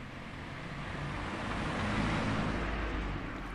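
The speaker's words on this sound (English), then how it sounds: "This is a car passing in a village." A car passing through a village, a broad rumbling roadway wash that swells gradually toward the middle and eases off slightly, with no talk over it.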